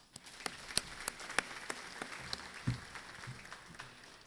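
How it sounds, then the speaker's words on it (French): Sparse, scattered applause at the opening ceremony of a certified training session, individual claps popping distinctly and unevenly at a faint level rather than a full roar, with a small thump partway through. "j'aimerais que nous le remercions ensemble en les applaudissant"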